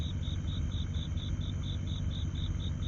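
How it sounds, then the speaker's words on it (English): Steady, continuous cricket chirping in regular pulses, high-pitched and moderately distant, over a low background hum with no voices. "Hear the crickets?"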